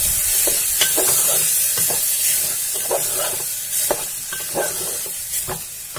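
Soaked chana dal and other dal palak ingredients being sautéed in a pressure cooker: a steady frying hiss with repeated scraping stirs of a spoon against the pot, close and fairly loud.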